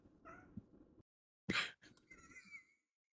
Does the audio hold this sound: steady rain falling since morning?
no